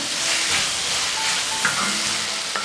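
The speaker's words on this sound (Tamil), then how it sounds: "கீரை நல்லா வணங்குற அளவுக்கு வணக்கி விடுங்க." Mudakathan greens sautéing in a pan with onion and tomato, giving a steady close sizzle and hiss with a few soft stirring knocks and no talking.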